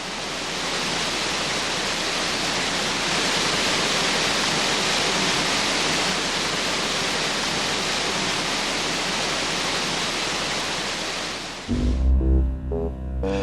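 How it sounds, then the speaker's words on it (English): Ramsey Cascades, the highest waterfall in the Great Smoky Mountains, roars as a dense, continuous hiss of falling water, loud and unbroken for most of the clip before cutting to soft music at the end. "the park's highest waterfall"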